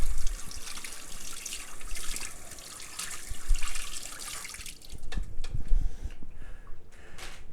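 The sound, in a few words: tap water running while washing cucumbers and dill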